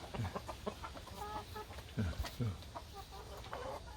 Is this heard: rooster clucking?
yes